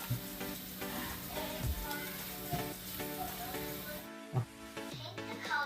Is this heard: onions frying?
yes